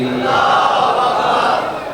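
A large crowd at a religious gathering for the 15 Shaban celebration in Khan Garh shouts a response to a religious slogan, a loud, sustained massed roar of voices that holds for the whole two seconds.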